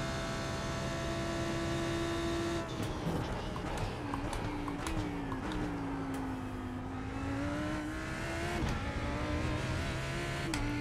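A GT3 race car in the iRacing sim game, driven at Le Mans, drones loudly and steadily throughout, its engine note rising and falling with throttle and gear changes, with no speech over it.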